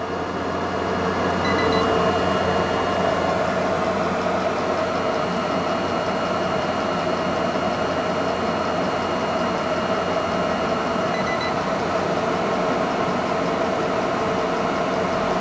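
An Eberspacher Espar B4L gasoline heater runs on a Volkswagen, giving off a steady, even combustion roar and hiss that holds at one level throughout with no breaks.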